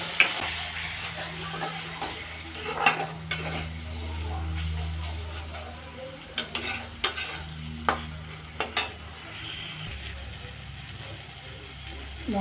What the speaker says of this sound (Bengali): মশলাটাকে ভালোভাবে কষিয়ে নিলাম।